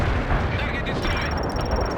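Incoming artillery barrage in the World in Conflict video game, a dense continuous rumble of blasts and explosions, loud and close, with a voice talking over it.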